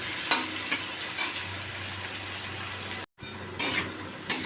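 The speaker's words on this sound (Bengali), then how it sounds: "বন্ধুরা দেখো আমি এর মধ্যে একটু জিরের গুঁড়ো দিয়ে দিয়েছি হলুদ দিয়েছি নুন দিয়েছি এখন এটা একটু কষাবো" Fish curry fries with cumin, turmeric and salt, giving a soft steady sizzle broken by several sharp stirring scrapes and a brief pause.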